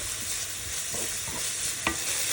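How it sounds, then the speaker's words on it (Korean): Chopped green onion stir-fried in a hot pan with garlic, giving a steady bright sizzle with a few soft scraping stirs, close and continuous, without any talk. "썰어 놓은 대파도 넣어주고 고소한 파향도 함께 끌어올려 주세요. 이렇게 달달 볶아준 다음"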